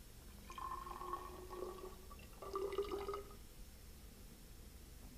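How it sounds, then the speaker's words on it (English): Water is poured from a laboratory flask into a graduated cylinder in two short bursts, a quiet, close trickling and filling sound, with no speech. "We will carefully remove the rubber stopper from the flask and pour the water into a graduated cylinder."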